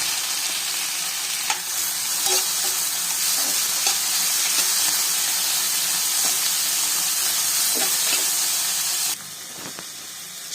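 Onions and tomatoes frying in a pan for a Tamil prawn thokku, a steady close sizzle with scraping stirs and occasional clicks of the spoon, continuous for about nine seconds before the sizzle drops quieter at the end.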